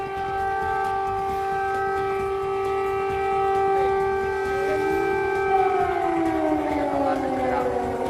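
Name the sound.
air raid sirens in central Kyiv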